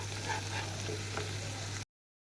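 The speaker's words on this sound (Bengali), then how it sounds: "হলুদের গুঁড়া, মরিচের গুঁড়া দিয়ে সুন্দরভাবে ভেজে নিতে হবে মশলাগুলো।" Turmeric and chili powder spices frying in oil for a pabda fish curry, a soft steady sizzle close by for about two seconds before cutting to silence.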